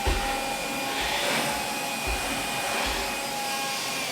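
An AEG CX7-1-30EB stick vacuum cleaner runs steadily with a constant close motor whine and airflow rush, without speech.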